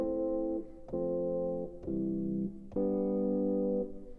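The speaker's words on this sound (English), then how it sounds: "this is a minor chord progression because we're starting on a minor chord." Four sustained synth pad chords in a minor progression, played one after another on a Push 2 controller, each held about a second, warm and mellow with soft attacks.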